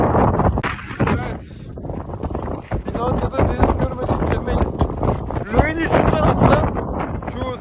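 Strong wind gusts buffet the microphone outdoors in Helsinki, a loud continuous roar and rumble that swells and eases throughout, while a person talks over it.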